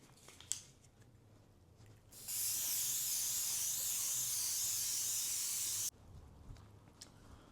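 A single long, close hiss of an aerosol makeup setting spray runs for about three and a half seconds, with quiet handling noises before and after.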